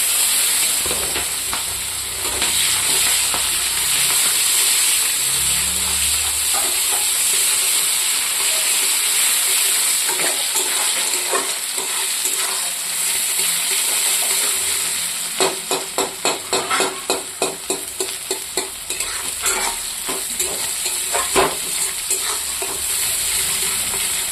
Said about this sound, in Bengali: তেলটা গরম হয়ে গেছে। আমি এখানে শুকনো লঙ্কা দেব, আর দেবো অল্প পাঁচফোড়ন, আর দেবো এই পেঁয়াজ